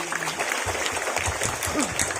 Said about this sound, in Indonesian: Tepuk tangan dulu buat rekan.